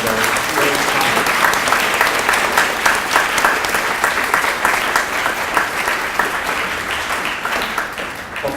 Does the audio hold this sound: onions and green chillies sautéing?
no